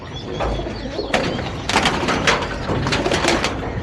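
Arsad racing pigeons coo close by, a few soft throaty calls against steady background noise from a loft in India, with a couple of sharper knocks in the middle.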